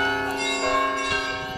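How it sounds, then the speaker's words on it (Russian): Church bells ring at Kolomenskoye, a close, steady, sustained peal of overlapping metallic tones with no talking. "Колокольный звон мы послушали."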